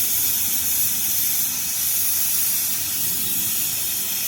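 Steady loud hiss of a pressure cooker releasing steam on a mud stove while cooking kohlrabi with tomato, a continuous broadband rush lasting throughout with no breaks.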